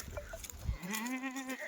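A Kathewadi goat at a livestock sale lets out one clear, drawn-out bleat near the microphone after some low rustling and shuffling.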